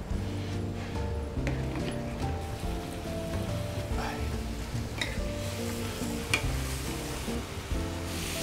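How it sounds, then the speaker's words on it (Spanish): Tomato frying with onion in a pan for a Gandia fideuà, a continuous close sizzle with crackling pops and occasional stirring, no talk. "Dejamos que el tomate se sofría."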